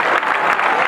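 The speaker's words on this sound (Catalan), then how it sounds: "es mereixen un aplaudiment, però molt més fort encara." Brief burst of loud crowd applause at an outdoor Catalan giants dance festival in Malgrat de Mar, dense and unbroken for under a second.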